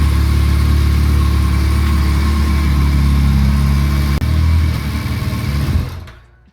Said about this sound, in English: I'm now going to start the bike to show you the issue.